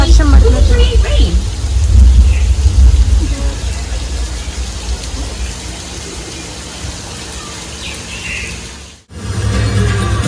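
Artificial rain from a sprinkler system that shoots recycled water into the air on a Universal Studios Los Angeles backlot, a steady loud hiss of falling water with a brief dropout near the end, heard from a tour bus.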